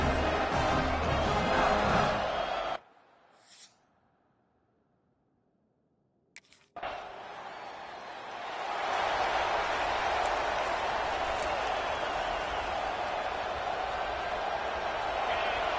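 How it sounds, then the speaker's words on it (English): Loud video game stadium crowd roar in Call of Duty, broken by a short near-silent gap with a faint whistle-like sound, then the crowd noise swells back and continues steadily. "Listen to this crowd just shaking the girders of this place"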